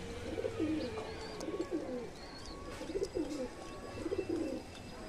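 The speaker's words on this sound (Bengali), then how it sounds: "একটা টিপলাল পায়রা আছে।" Pigeons coo in soft, repeated rolling phrases, with a few faint chirps from other birds over a quiet background hum.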